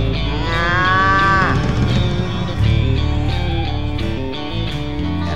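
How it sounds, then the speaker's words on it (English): A Guernsey cow moos loudly and close, one long drawn-out low call that bends in pitch, set against a steady musical backing with no talking. "I can't find my Guernsey cow."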